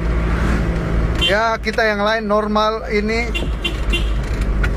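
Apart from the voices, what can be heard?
cars passing by on the road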